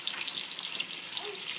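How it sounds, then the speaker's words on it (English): Smoked pork chops fry in hot oil, a faint, steady sizzling hiss with no talk over it. "the oil's ready, so we're putting the smoked pork chops in"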